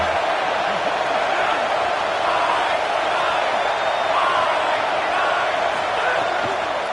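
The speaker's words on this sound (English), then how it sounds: "Decibels rising as the crowd gets behind this defense on 3rd down" Stadium crowd noise in a football video game as fans get behind the defense on third down: a loud, continuous roar that holds steady with slight swells, with speech mixed in.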